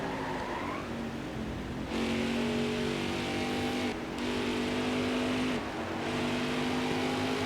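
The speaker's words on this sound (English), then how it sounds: "Get off the gas, let the car roll through the corner just enough. Get back into it." NASCAR race car engine in NASCAR Heat 5 at New Hampshire Motor Speedway, droning steadily then rising in pitch as it accelerates out of corners, with a couple of brief dips where the throttle lifts and other cars drone nearby.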